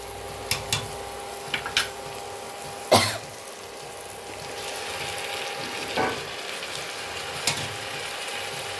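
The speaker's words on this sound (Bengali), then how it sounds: "তো আমার টমেটোটা ভাজা ভাজা হয়ে গেছে, এবার আমি চিকেনটা এই দিয়ে দেব।" Chicken pieces go into frying tomato masala in a pan, giving a steady low sizzle broken by a few sharp clacks and scrapes of stirring, with one louder knock near the middle.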